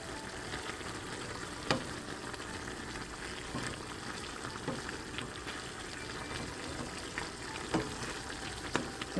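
Chicken stew meat cooking in a pan, a soft steady sizzle and gentle bubbling with a few faint clicks of stirring, quiet and close, with no talking.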